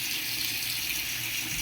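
Steady broadband rush of tap water running into a sink to thaw fish, continuous and fairly close, with no voices.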